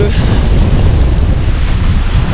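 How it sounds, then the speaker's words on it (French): Strong wind roars steadily while waves churn and slap continuously, a loud, unbroken wash of rough water close by. "il y a pas mal de vagues là, ce matin, donc il y a trop de vent pour aller sur l'eau"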